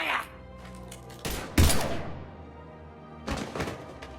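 Gunfire erupts in the Mass Effect 3 game as a few sharp, heavy shots and thuds land at irregular intervals, one especially loud blast standing out over a low rumbling background.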